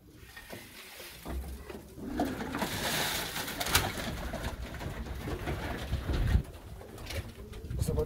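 Pigeons coo softly and repeatedly at close range inside a loft, layered over faint shuffling and fluttering, with no talking.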